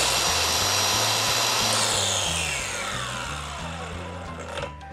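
An Osuka cordless circular saw spinning at 6,500 RPM, a loud steady high whine with a pulsing low drone, its pitch sliding down as the blade winds down after release.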